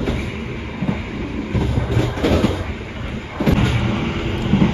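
An Indonesian passenger train rumbles steadily along the rails with rhythmic clattering swells, loud and close, as if heard from on board, running between Yogyakarta and Jakarta near Gombong station.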